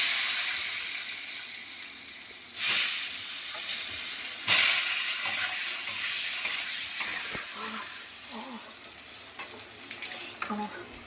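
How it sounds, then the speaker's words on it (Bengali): Boiled potatoes fry in a pan with cumin, turmeric, five-spice and dried chilli, giving a continuous hissing sizzle interrupted by a few loud stirring scrapes, the bubbling crackle growing busier toward the end. "দিয়ে এটা কষছি।"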